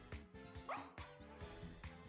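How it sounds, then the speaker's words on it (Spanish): The dog-type Pokémon Fidough barks repeatedly in Pokémon Purple, a run of short, yappy synthesized woofs and a whimper-like squeak in a steady bouncing rhythm, close and clear with no talk over it. "Es un perro porque ladra"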